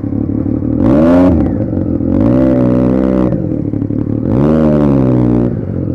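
A Triumph Street Triple 675 inline-three motorcycle running without an exhaust pulls hard through three loud, raw acceleration bursts, each rising in pitch before a gear change, heard close up with constant wind rush.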